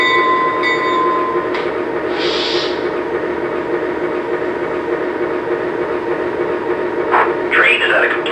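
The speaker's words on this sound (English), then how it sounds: "the bell comes on automatically and plays until we stop" A Lionel Legacy R-16 Sharknose model train's bell rings steadily as the locomotive slows, a bright tone clear at first, then lower under an even running rumble that continues to the end.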